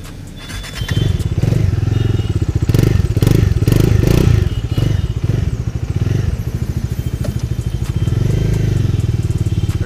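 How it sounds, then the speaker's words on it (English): A loud, deep, bassy exhaust note from a BS6 Bajaj Dominar 400 motorcycle rumbles steadily after a brief quiet start, swelling as the engine revs and then settling into a constant throb. "The first thing you'll notice is the exhaust note. It's really loud, bassy"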